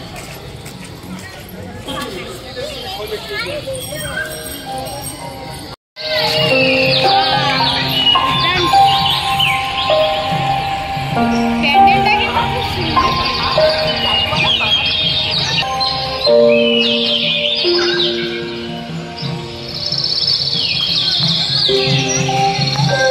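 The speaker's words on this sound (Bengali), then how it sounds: "আর পাখির আওয়াজগুলো এত সুন্দর লাগছে" Birds chirp and call steadily in the background, bright and overlapping, while people talk nearby.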